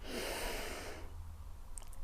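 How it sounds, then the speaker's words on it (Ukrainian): A deep inhale drawn over about one second during a breathing exercise, a loud, airy rush of breath close to the mic, followed by stillness with faint background hiss. "На чотири рахунки вдих"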